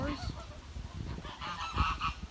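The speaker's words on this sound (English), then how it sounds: "These are geese, not ducks." Geese at a drive-thru zoo give several loud, nasal honks in quick irregular bursts, close by, with faint outdoor background and no speech.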